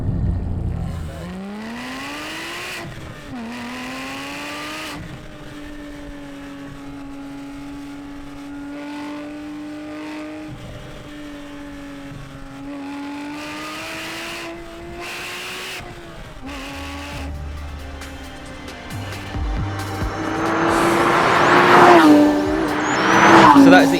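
Porsche 997 GT3 sports car driven hard along a country road, its engine note climbing and holding steady through the gears, sustained and close, swelling louder with roaring revs near the end; speech is faintly present.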